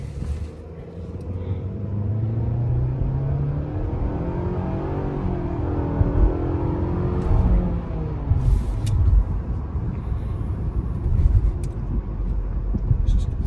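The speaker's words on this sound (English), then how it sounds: "We're gonna do a quick 0 to 60 test off the line, but the engine does feel a little bit sluggish." A 2025 Mitsubishi Outlander SUV pulls hard off the line in a 0 to 60 run, its engine rising in a steady, continuous drone with rumbling road and wind noise building around it, heard from inside the cabin with no talking.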